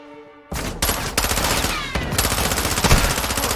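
Rapid automatic gunfire in the Modern Warfare 2 campaign mission Cartel Protection: a sudden opening shot, then sustained close, loud bursts of rattling fire that fill the moment almost alone.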